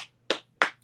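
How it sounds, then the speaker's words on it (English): Two or three sharp, isolated claps sound close and dry, spaced about a third of a second apart, against near silence. It is a sparse patter rather than full applause. "sounded like somebody was dropping eggs on the floor or something, a dozen people clapping"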